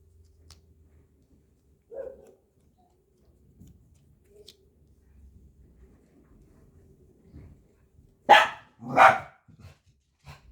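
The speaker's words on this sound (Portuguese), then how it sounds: "eu tenho cachorros em casa, então eu peço que vocês relevem o barulho" A dog barks twice in quick succession, loud and close, after a stretch of quiet room noise with faint shuffling.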